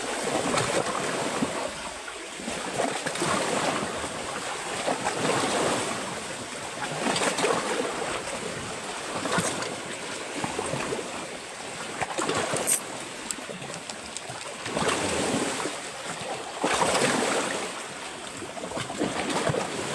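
Sea waves wash and surge around a fishing boat in rhythmic swells, a steady broad rush that rises and falls every few seconds, close by and fairly loud with no talk.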